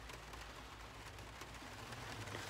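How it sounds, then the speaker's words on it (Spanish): Steady rain falls outdoors, heard as a continuous dense hiss with faint patter throughout, moderately quiet and unbroken by voices. "Pues está lloviendo bastante"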